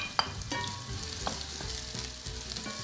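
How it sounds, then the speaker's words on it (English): Onions sizzle and fry in hot oil in a heated frying pan, a steady close crackling hiss with a few sharper pops, running throughout with no talking. "We have the sizzle."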